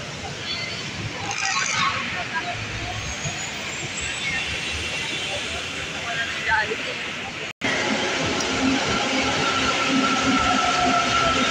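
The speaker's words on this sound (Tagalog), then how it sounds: "Madating na yung train guys." An LRT light-rail train pulls into a station on the Sta. Lucia to Recto line, a loud rumbling and rushing build-up with brief screeching, under steady crowd chatter and voices on the platform.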